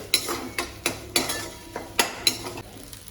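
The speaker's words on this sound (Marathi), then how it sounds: "आता मी कांदा परतून घेणार आहे" Onion is stirred and fried in a pan for a Marathwada-style dry chicken dish, a spatula scraping and clinking against the pan about eight times in an uneven rhythm over a faint sizzle.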